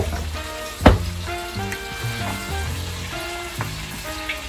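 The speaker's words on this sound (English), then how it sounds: "the onions into the bacon grease. And let that cook until the onions are translucent" Onions cooking in bacon grease in a home kitchen pan, a soft continuous sizzle with a sharp clatter near the start and light stirring noises over a faint tonal background hum.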